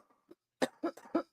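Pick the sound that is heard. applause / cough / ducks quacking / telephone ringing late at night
cough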